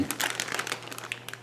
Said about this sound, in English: Put a lot of aluminum foil, doubled it on this